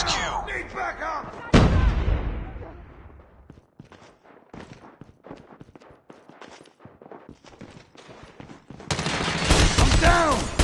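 A battle in a video game: sharp gunfire and heavy booms crack out in a rapid irregular fusillade, with loud blasts at the start and end and many quicker shots in between, under brief shouted voices.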